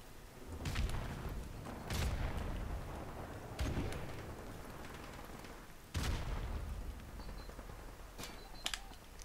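Heavy weapons in a video game fire in loud, booming blasts, each with a sharp attack, spaced roughly two seconds apart over a steady rumbling background.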